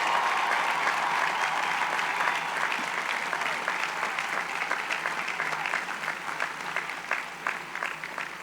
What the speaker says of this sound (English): please stand and receive our applause and heartfelt appreciation for your service to our nation